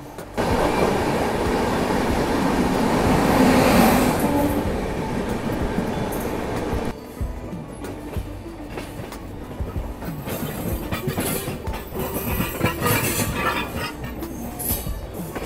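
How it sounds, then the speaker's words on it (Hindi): A Rajdhani Express rolls past Jansadharan Express and intercity trains, a loud continuous rumble of rail traffic with rhythmic wheel clatter that eases after a few seconds but keeps rattling on throughout. "यहाँ पे कोई जनसाधारण एक्सप्रेस और बर्ली इंटरसिटी का भी एक साथ ओवरटेक हो रहा है।"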